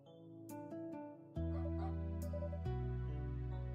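A dog in the video game NoviNews gives short barks and yips, then a whimper, over a loud sustained musical score. The dog sounds are close and brief.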